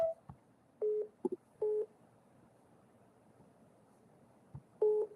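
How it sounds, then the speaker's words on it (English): Voicemail prompt tones on a phone call heard as a few short steady electronic beeps, some in quick pairs, spaced across a quiet line with faint background hiss. "At the tone, please record your message."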